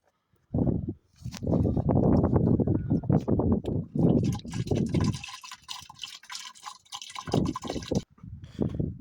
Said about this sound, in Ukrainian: І додаю води до 10 літрів.